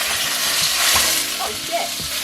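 Garlic and ginger hit a hot wok at the start of a beef and broccoli stir fry, giving a bright, constant sizzle with a few light knocks underneath.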